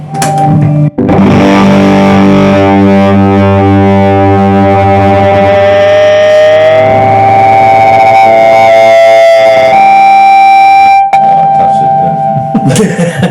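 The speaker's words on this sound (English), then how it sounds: "This is a valve-driven reverb." Sustained distorted electric guitar notes ring out loudly through a Ratajczyk Extreme Reverb Mk 3 valve-driven reverb amp, swelling with a lush, washing reverb tail that shifts pitch as chords change.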